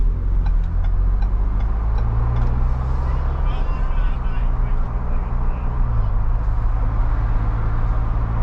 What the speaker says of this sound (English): You can hear the turbo spool up when you take off